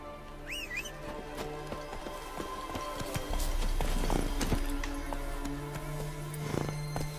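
A horse gallops in The Witcher 3 video game, with hoofbeats over game ambience that swell toward the middle and recur later, plus a brief whistle-like sound early on.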